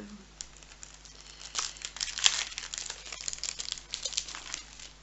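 Sticker packets being opened by hand make soft, close crinkling and rustling of plastic packaging, with bursts of brighter crackling in the middle. No one speaks.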